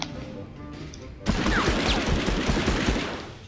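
Bursts of rapid gunfire in the PlayStation game Medal of Honor, starting abruptly after a quieter stretch and continuing as dense, loud volleys of shots with sharp impacts for the rest of the clip.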